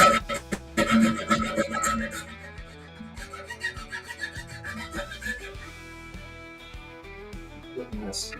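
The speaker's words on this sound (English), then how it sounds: "I'm going to get myself a rasp file." Rasp file scraping wood while shaping dovetail joints, giving rhythmic rough strokes mixed with bursts of rubbing and other handling noise; no talking.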